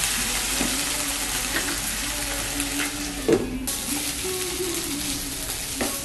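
Chicken mince bubbles and sizzles softly in a pan with water on low gas, a steady faint simmer with a few brief clinks and stirring sounds.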